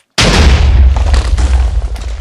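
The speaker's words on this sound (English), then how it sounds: "I was just messing about with TNT cannons." An explosion from a TNT cannon in the Minecraft video game: a sudden loud, heavy boom with a long rumbling tail that fills the whole clip, with no voices.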